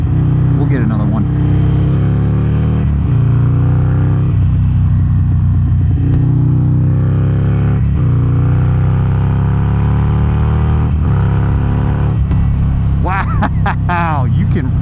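A dyno-tuned 1275cc Harley-Davidson Sportster pulls hard on the highway, its engine droning loudly and steadily before rising in pitch near the end, while a rider talks over the engine noise.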